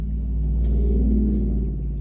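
A car engine hums low and steady from inside the vehicle as it pulls out into traffic, with two faint hissing swells of passing vehicles.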